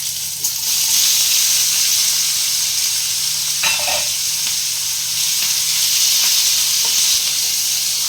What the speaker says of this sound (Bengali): আমি বড় পেঁয়াজ কুচি করে নিয়েছি সেটা আমি ফোড়নের জন্য দিয়ে দিলাম